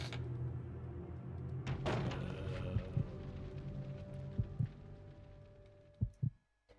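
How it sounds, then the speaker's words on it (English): A slow, deep heartbeat thumps under a low steady hum, with a couple of sharp mechanical clunks and a final pair of heavy throbs near the end. "Another heartbeat door."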